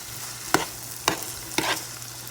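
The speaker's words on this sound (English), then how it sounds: "I like to saute it for maybe like 2 minutes to get a little soft." Peppers and onions sautéing in a pan, with three sharp, evenly spaced scrapes of stirring over a soft, steady sizzle.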